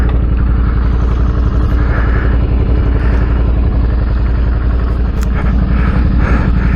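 Adventure motorcycle idling rich with the muffler baffle removed, a loud, steady, throbbing exhaust rumble with fast pulsing beats, close by, no talk.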